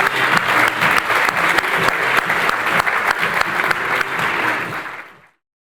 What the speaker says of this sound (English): a big round of applause to Maria.